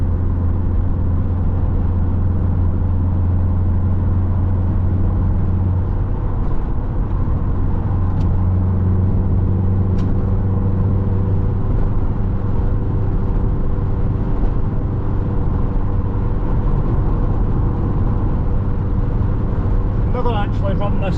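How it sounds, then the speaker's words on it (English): Steady, loud road noise and engine hum from inside a Mk3 Vauxhall Cavalier driving through English traffic at night, a continuous low rumble with passing vehicles blending in. "look at the traffic."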